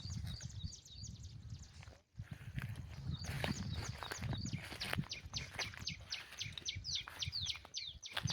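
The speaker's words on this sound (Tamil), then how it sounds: "குருவி சவுண்ட்லாம் கேட்குதுங்களா?" Small forest birds chirp in quick repeated bursts, clearest in the second half, over a steady low rustling background with a brief drop partway through.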